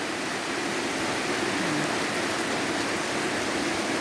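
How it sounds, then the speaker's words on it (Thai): Steady, heavy rain pours down during a storm, a dense continuous hiss of drops on surfaces with no breaks and no voices. "พอดีฝนตก"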